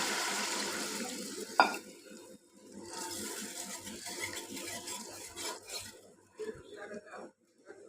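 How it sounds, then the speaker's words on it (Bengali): Water pours into frying fish curry masala with a loud gushing splash and hiss, followed by bubbling, stirring and a few light knocks of a utensil on the pot. "পরিমাণ মতো পানি দিলাম"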